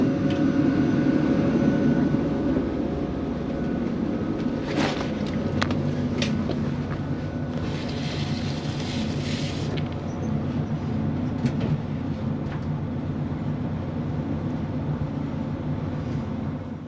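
A CrossCountry train running out of Aberdeen, heard from inside the carriage as a steady low rumble of wheels on rails with occasional clicks and squeals, no talk.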